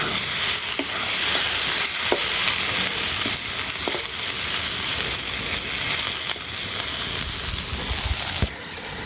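Small fish tossed with spices in a frying pan, a steady loud sizzle with scattered scraping stirs and occasional clinks, near and continuous with no talk.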